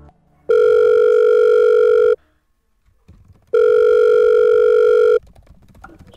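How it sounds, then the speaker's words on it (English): A telephone ringback tone on an outgoing call to a parent sounds twice, each steady electronic buzz lasting under two seconds with a silent gap between, loud and close. "they decided to give his mom a phone call."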